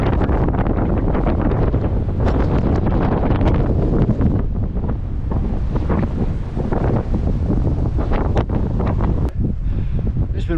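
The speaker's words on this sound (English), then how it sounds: "so that's why I'm getting the gust of wind." Strong, steady wind gusts roar across a snowy mountain saddle on a hiking trail, a loud continuous buffeting rush over the microphone with no break throughout.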